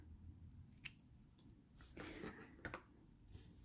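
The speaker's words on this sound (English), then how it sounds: "now I'm going to cut off my green yarn" Scissors snip through green crochet yarn in a few quiet, close cuts with soft rustling between them, faint and without talking.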